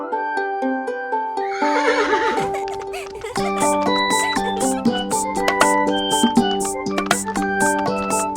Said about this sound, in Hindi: घोड़ा गाड़ी की सवारी होती कितनी ज्यादा